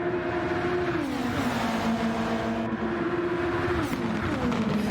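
McLaren Formula-style race car in the Project SF1 Sainte-Croix Grand Prix, its engine holding a loud, steady high whine down a straight with slight pitch shifts as it shifts gears, close and continuous.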